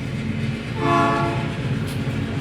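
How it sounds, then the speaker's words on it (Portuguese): A passing train rumbles steadily for a couple of seconds, with a horn-like harmonic tone swelling near the middle and fading away, heard alone with no talking. "Ó o trem."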